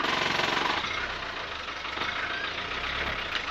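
A 1966 Land Rover Series 2A 88-inch hardtop with a replacement 2.5 diesel engine runs, a rough clattering knock over a low steady rumble, loudest at first and then settling to an even idle.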